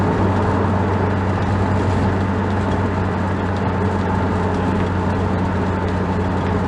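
A 1996 C4 Corvette cruises along, with a steady low engine drone and road rumble heard from inside the car, loud and continuous with no talk.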